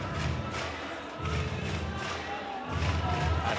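Stadium crowd at the 2013 IPC Athletics World Championships in Lyon, France, a broad roar of cheering with rhythmic stomping and clapping pulses in steady waves, loud and diffuse throughout.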